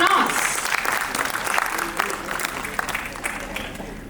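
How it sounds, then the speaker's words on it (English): Conference attendees at a tech panel clap as a guest is welcomed to the stage, a fairly loud, uneven patter of applause that gradually thins out. "Round of applause."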